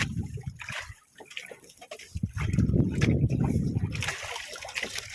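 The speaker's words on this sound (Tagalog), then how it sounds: "Maririnig yung mga kasagwan yung hampas ng ano namin katigo." Paddles and rough waves slap against the hull of an outrigger boat out at sea during squid season, giving irregular close splashes and sloshing water that rise to a steady wash.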